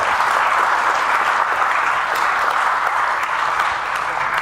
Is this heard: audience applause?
yes